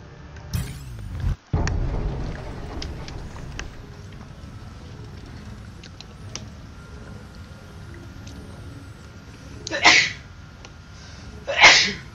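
Two sharp sneezes burst out near the end, a second apart, loud and close against a quiet background of low hum and faint clicks while Elite: Dangerous is played.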